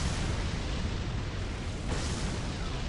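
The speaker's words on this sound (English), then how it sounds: "over the explosion noise for this." Continuous, dense roar of explosions from a video game, loud and unbroken throughout with no clear gaps, a thick wall of rumbling blasts and no talking.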